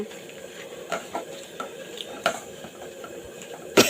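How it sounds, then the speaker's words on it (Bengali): Sharputi fish being mashed by hand with onion and chili in a bowl, a steady wet squelching and rubbing with occasional clinks of the vessel, close and continuous. "পেঁয়াজ এবং মরিচটা মাখাতে মাখাতেই নরম হয়ে যায় এভাবে এটা মাখাতে হবে"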